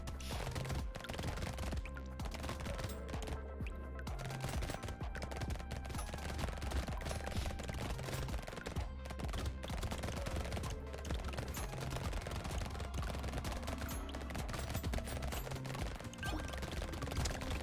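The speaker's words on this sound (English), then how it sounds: "Good old dependable SMGs. Yeah, damage is feeling good." Rapid submachine gun fire in a video game, continuous bursts of automatic shots layered with game effects and a steady low thumping music bed, dense and loud throughout with no pauses.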